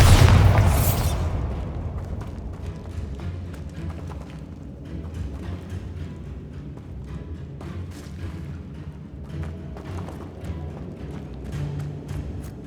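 A Bombarda blasting spell from Hogwarts Legacy on PS5 goes off with a loud boom at the start, then fades into a long, lower rumble of scattered crackles and debris pops.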